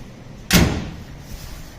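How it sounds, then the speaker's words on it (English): A single heavy thud as the door of a 1933 Chrysler swings shut, close by and sharp, then fading into quiet room tone. "I close the door"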